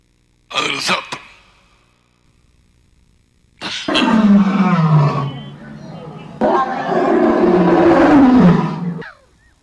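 A voice imitates a lion's roar in three bursts: a short sharp one, then two long, loud, growling roars that slide downward in pitch and end abruptly, separated by silence.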